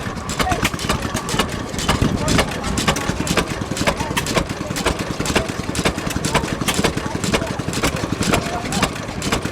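A small Maytag stationary engine powering a sawmill runs steadily nearby, its fast, even putter continuing without a break throughout.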